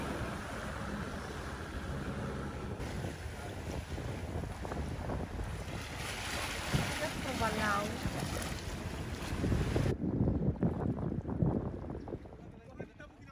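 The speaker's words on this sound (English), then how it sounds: "Strong easterly wind fills our sails and we sail fast towards our next destination" A sailboat runs fast before a strong easterly wind off Fiji, with loud wind buffeting and rushing water against the hull, waves splashing throughout, until the wind noise abruptly drops away near the end.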